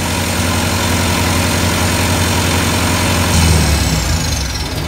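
Kubota 35 kW diesel generator engine running, a loud, close, steady low rumble with vibration and cabinet rattle, continuous throughout without talk.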